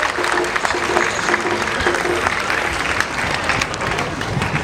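A crowd applauds steadily at a dedication ceremony for a monumental education project, with dense, continuous clapping at even loudness throughout and voices faintly mixed into the noise.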